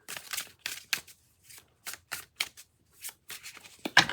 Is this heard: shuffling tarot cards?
yes